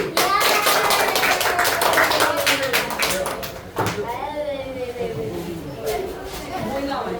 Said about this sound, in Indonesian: Kasih tepuk tangan untuk kelompoknya Arya dulu